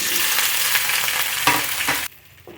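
Okra frying loudly in hot coconut oil in a wok, a steady dense sizzle with a couple of stirring clatters, then dropping sharply to a faint crackle near the end.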